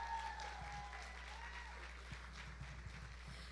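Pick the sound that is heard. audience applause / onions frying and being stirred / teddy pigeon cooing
audience applause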